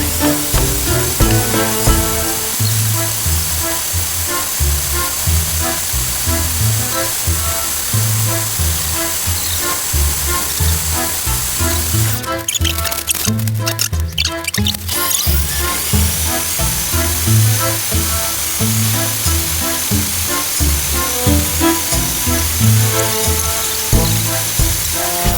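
An electric mixer whisks a Russian zefir mixture on high speed, its steady high motor whine running under loud background music, with a short louder burst midway.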